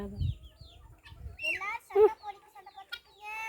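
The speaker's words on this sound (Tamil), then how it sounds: "இது பாருங்க நாய்க்கும் கோழிக்கும் சண்டை" Chickens cluck and squawk in short agitated bursts while fighting with a dog, with some low thumping noise at the start and a few sharper calls in between.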